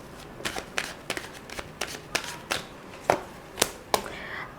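Tarot cards being shuffled, a quick run of crisp, papery riffles and slaps at a steady rhythm, close and fairly soft, with no talk over them.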